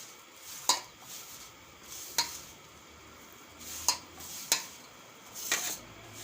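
Millet flour being mixed with ghee in a bowl, with a spoon giving a few sharp, spaced clinks against the bowl over soft scraping, close and quiet with no talk.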